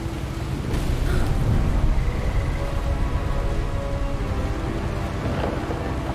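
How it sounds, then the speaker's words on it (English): Thunderstorm with heavy rain in the video game What Remains of Edith Finch, a loud steady wash of rain with a deep rumble of thunder rolling underneath throughout, with no voices. "The thunder sounded much too close and full of angry power."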